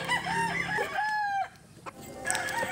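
A backyard rooster crows nearby with a long drawn-out cock-a-doodle-doo, followed by a pause and the start of another crow.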